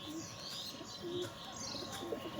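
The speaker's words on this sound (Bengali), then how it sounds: "এটাও কিন্তু গিরিবাজ লাইনের পায়রা" Giribaz pigeons coo and chirp softly at a steady distance, with a few overlapping calls and a faint background hum and no voices.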